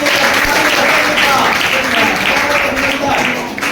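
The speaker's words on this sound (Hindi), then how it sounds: "जोरदार तालियों के साथ।" A packed room at a government school's KBC-style quiz show erupts in loud, continuous applause from many hands, steady throughout and easing slightly at the end, with a voice faintly audible underneath.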